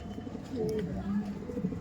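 An Andhra pigeon coos in low, soft, repeated notes close by, with a person talking over it.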